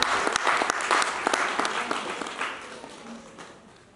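A church congregation applauds during a service. The clapping is lively at first, then thins out and fades over a few seconds.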